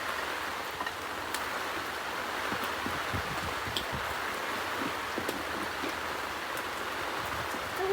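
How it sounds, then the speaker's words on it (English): Heavy rain falling steadily outdoors, a dense even hiss with scattered drops spattering on nearby surfaces and faint sounds of movement. "It's raining a lot."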